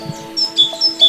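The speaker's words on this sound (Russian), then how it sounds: "Найдя еду, синицы оповещают своих сородичей" Small tits, including the azure tit, calling to their flock in winter: a quick series of high, thin chirps and tweets, close and clear.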